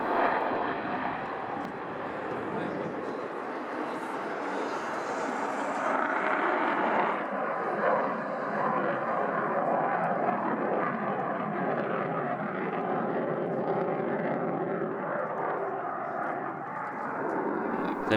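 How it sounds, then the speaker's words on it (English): A Polish MiG-29 jet fighter climbs out at an airshow with a loud, sustained engine roar that stays dense and steady throughout, with crowd noise faintly beneath it. "Take a look at this amazing climb out from the Polish MiG-29."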